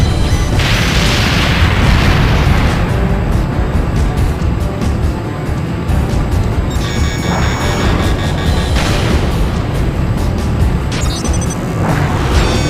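A missile detonation in the flight combat game Ace Combat Joint Assault, a loud, sustained rumbling blast that fills the whole stretch, with roaring engine noise and bursts of explosive crackle.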